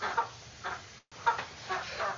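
Chickens cluck softly in a close pen indoors, a few short clucks and murmurs coming in small bursts with a brief silent gap in the middle.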